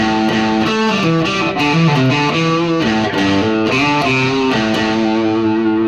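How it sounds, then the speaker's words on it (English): A heavily distorted electric guitar, volume knob fully up, plays a fast run of notes, loud, gritty and sustained, with no voices. "So here's my volume all the way on. The distortion's very aggressive."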